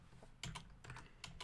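Code typed on a computer keyboard in a few quick bursts of clicky keystrokes, close and faint, with short pauses between runs and no talking.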